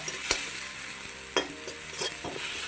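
Chopped onions frying in hot oil give a steady sizzle with a few sharp stirring scrapes and clinks, close and with no talking.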